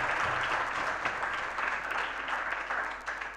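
Students at a mock parliament on the Emergency, held at MIT Medical College in Latur, give a round of applause, a steady rippling of many hands heard at a moderate distance and fairly softly.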